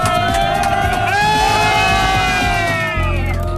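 A crowd cheers and whoops at a tunnel boring machine breakthrough beneath a giant dam in Iceland, a loud sustained roar of voices with shouts rising over it.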